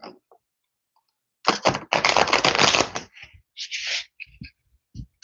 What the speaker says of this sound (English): I'm going to go ahead and shuffle this deck here